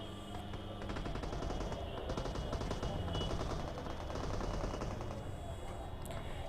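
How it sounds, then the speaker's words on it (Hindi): Gunfire in a battle-royale style video game, sustained rattling machine-gun shots heard continuously at moderate loudness with dense game noise, no talk. "उसी समय आगे से आती है फायरिंग की साउंड, जस्ट आप सुनो"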